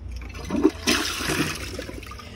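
An American Standard Cadet space-saver toilet flushes during a dish towel test, a single close rush of swirling water that starts about a second in and drains steadily to the end.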